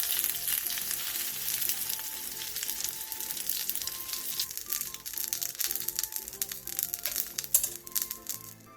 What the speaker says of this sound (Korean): 계란을 앞뒤로 노릇노릇하게 붙여주세요